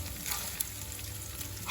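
Bacon, nearly cooked, fries in a pan with a steady close sizzle and crackle, plus a few sharper pops, and no talking.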